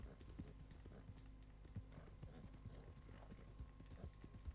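Horse hooves clip-clop steadily at a walking pace in Red Dead Redemption 2, moderately close and unbroken for several seconds with a faint background bed and no speech.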